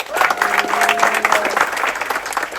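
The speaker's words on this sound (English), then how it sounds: "Big applause for Ivi" An audience on the Amadeus cruise ship claps for a crew member being introduced, a continuous wash of applause at close range, with a faint sustained tone and some voices mixed in.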